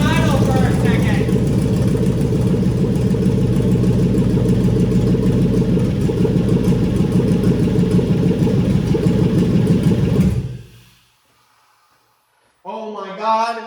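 A newly installed engine in a Cheetah idles steadily and close by, a dense low rumble running for about ten seconds before cutting out abruptly, followed by silence and then excited talk.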